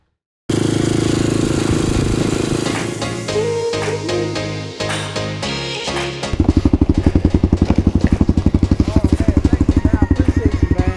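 An American motorcycle engine revs unevenly, then settles into a loud, steady, rapid chugging as it pulls away, close by.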